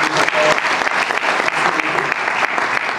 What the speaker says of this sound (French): Je vous demande d'applaudir pour votre